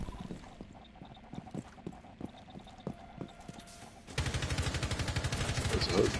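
Gunfire in Rainbow Six Siege: scattered single shots over a faint background, then a dense burst of rapid automatic fire that grows louder toward the end.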